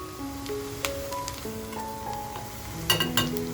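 Asafoetida dropped into smoking-hot oil in a Marathi home kitchen as a Mandeli fish curry begins, giving a steady near sizzle and fry crackle with a few metallic clinks of a pan or spoon, no talking.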